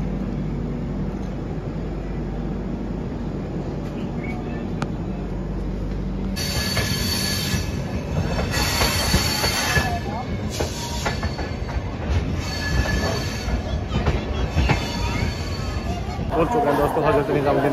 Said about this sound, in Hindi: स्टेट रेलवे स्टेशन पर हमारी जो ट्रेन है वो पहुंच चुकी है।